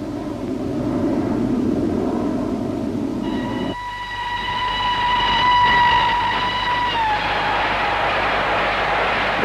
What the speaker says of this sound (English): They come by train